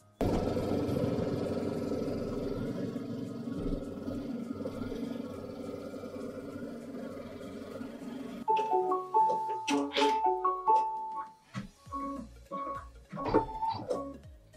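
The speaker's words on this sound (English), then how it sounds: "you're going to stitch that outline directly onto your stabilizer" Embroidery machine stitching an outline onto stabilizer in a hoop: a steady, loud mechanical hum and whir for about eight seconds, then a stretch of irregular clicks, taps and short motor bursts.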